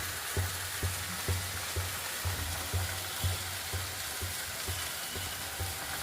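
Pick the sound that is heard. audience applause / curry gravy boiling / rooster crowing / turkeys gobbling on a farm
curry gravy boiling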